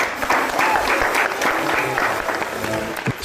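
Audience applause for Teacher Dani fills a studio for over three seconds, a steady dense clapping that holds loud throughout with a faint voice murmuring beneath it.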